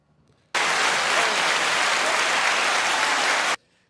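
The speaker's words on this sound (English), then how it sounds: "Found the applause." Canned applause sound effect played on a podcast, a sudden, loud, uniform burst of crowd clapping that starts abruptly, holds steady for about three seconds, and cuts off sharply.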